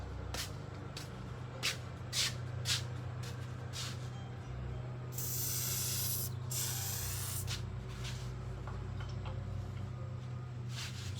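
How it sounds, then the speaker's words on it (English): Trim shine product sprayed onto a car from a trigger bottle: a few short quick spritzes, then two longer hissing bursts, close and fairly quiet with no talk. "Don't spray it all over that bud"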